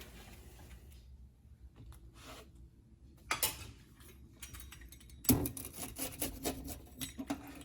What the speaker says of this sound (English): It's actually a crispy sound, just like a real tortilla.